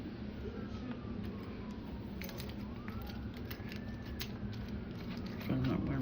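An ambulance siren wails faintly in the distance outdoors at night, its rising and falling tone drifting under low background noise and murmuring.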